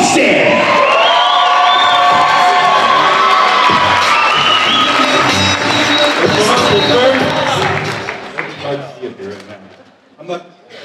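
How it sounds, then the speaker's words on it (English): A large crowd at a Pittsburgh bodybuilding pro show cheers, whoops and applauds loudly and steadily for a guest poser, tapering off near the end as a voice begins to speak. "a big Pittsburgh round of applause for the Chris Bumstead"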